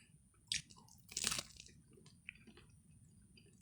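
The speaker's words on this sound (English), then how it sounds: "It's 12 a.m. and I'm chewing corn." Roasted corn is bitten and chewed close up in a quiet room at night, with a few sharp crunches and a louder burst of chewing amid softer mouth sounds, and no talk.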